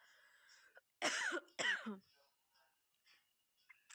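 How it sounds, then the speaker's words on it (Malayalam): A person in cold weather gives two sharp, close coughs in quick succession, followed by faint rustling and small sounds in an otherwise quiet space. "ചുമയില്ലാഞ്ഞ് എനിക്ക് ചുമ വരെ പിടിച്ചു."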